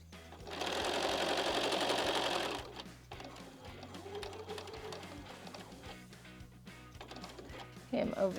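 A sewing machine stitches a curved quilt seam in one loud, rapid, buzzing run of about two seconds, then falls to a quieter hum with a few light clicks while a person talks.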